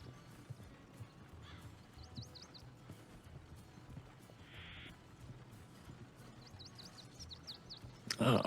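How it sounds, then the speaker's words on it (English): A horse-drawn carriage climbs a hill in a Wild West roleplay game, hooves clopping steadily at moderate distance with faint creaks and rattles of the carriage, plus a short bright burst near the end. "carriages come up the hill."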